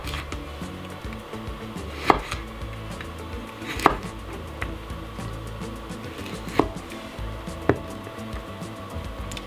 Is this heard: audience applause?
no